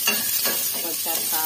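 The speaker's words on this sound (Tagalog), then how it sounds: "tayo po ay magigisa na" Tofu with onion and garlic sautés in a pan, a short burst of close sizzling with a few scraping stirs, with no voices.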